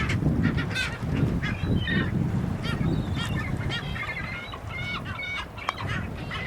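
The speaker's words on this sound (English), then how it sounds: "It's just a raft of birds." A raft of geese on open water honks repeatedly from a sailboat, overlapping calls rising and falling over a steady low rumble of wind and water.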